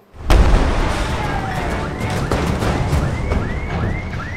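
A big explosion during a car stunt on a film set booms out suddenly and close, then a long crackling, rumbling tail of debris and pops follows, with faint voices in the background.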